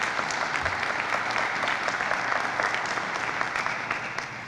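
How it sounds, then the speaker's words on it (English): Applause for a state director at a county affordable housing announcement, a fairly quiet, steady patter of clapping from a modest crowd that tapers slightly toward the end. "Give her a nice round of applause"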